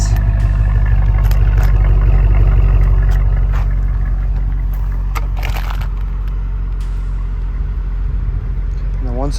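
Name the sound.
V8 car exhaust burble at idle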